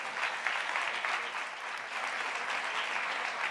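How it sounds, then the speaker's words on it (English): An audience applauds at a live summit event, dense continuous clapping from many hands, steady and fairly loud throughout. "give them another round of applause"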